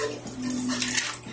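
Iced coffee poured into a blender for a frappe, a steady liquid pour with faint clinking of ice and a continuous wash of noise throughout.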